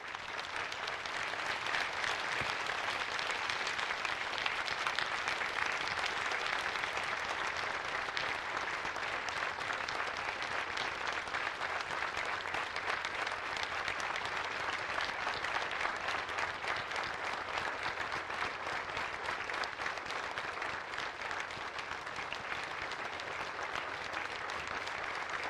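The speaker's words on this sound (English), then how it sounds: "A grateful nation applauds you today." Sustained applause from a standing audience at a Pearl Harbor remembrance ceremony, an even, dense wash of clapping holding steady for the full stretch, moderately distant with no voices.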